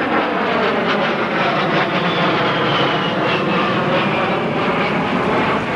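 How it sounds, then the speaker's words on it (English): Fairchild Republic A-10 Thunderbolt II with twin General Electric TF-34 turbofans at an air show, giving a loud, steady, broadband jet roar that fills the whole stretch without pause. "The A-10 Thunderbolt II, built by Fairchild Republic, with twin General Electric TF-34 turbofan engines"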